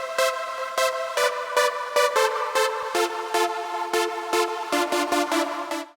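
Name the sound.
synth lead with OTT multiband compression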